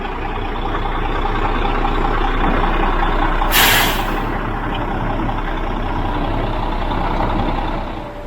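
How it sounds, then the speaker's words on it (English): All-wheel-drive concrete trucks working at a pour site, with a steady loud diesel engine rumble throughout and one sharp air-brake hiss partway through. "These trucks are all-wheel drive."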